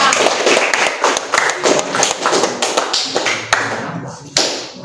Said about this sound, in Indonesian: kasih tepuk tangan dulu untuk dia